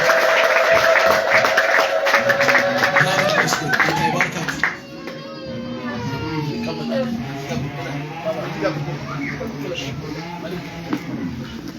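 A church congregation bursts into loud, sustained applause with cheering voices for about four seconds, then the clapping fades into softer crowd murmur and scattered voices, with a preacher's voice also heard.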